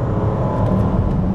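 A Range Rover SV Autobiography engine accelerating hard toward 60, a steady loud cabin roar and whir with no talking.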